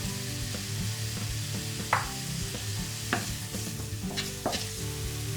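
Garlic and onion with a pinch of salt sautéing in a pan, a soft continuous sizzle under a low hum, with several sharp scrapes of a utensil stirring against the pan at intervals.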